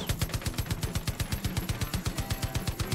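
A machine gun in Far Cry 5 fires in one long, steady automatic burst, roughly eight rounds a second with evenly spaced punchy thumps, loud and close, with no voices over it.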